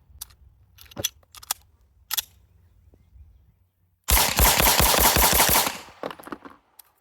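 A Smith & Wesson M&P Competitor pistol fires 147 grain rounds in a fast, loud string of shots lasting under two seconds. Faint clicks and handling noises come before it.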